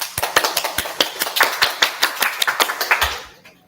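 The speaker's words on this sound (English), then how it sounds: "Let's give them a big round of applause" Audience applause closing a session of an industry talk, a modest group clapping in quick uneven rhythm, fairly close and clear, fading out over the final half second.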